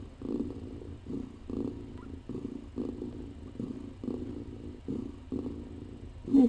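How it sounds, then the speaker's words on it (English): A mother cat with kittens purring up close, a soft, steady rhythmic rumble pulsing in regular breaths throughout, with no talk. "Listen to that purring. Listen to the purrs."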